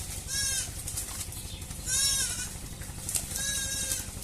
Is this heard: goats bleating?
yes